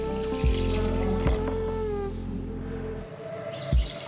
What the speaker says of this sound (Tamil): ரெண்டு கிளாஸ் வாட்டர் ஊற்றிக்கலாம்.